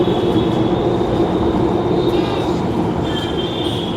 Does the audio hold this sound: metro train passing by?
yes